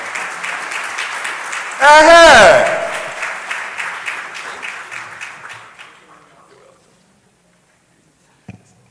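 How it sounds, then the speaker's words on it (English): An audience at a gender programme launch applauds to welcome a speaker, the clapping fading out gradually, with a loud voice briefly calling out over it early on. "Let's gauge the applause before you take the stand."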